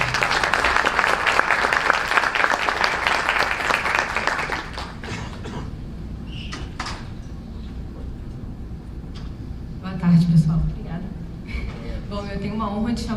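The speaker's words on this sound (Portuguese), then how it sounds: "Daniela Torres, uma salva de palmas, por favor." Audience applause at a Rio tech conference panel on e-commerce, loud clapping for the first few seconds that then cuts off, followed by quieter room sounds and a voice speaking.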